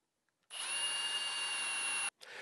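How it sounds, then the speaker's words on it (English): A power drill countersinking screw holes in wood whines steadily at high speed for about a second and a half, stops abruptly, then starts again briefly, close and loud. "I'm going to countersink those screws"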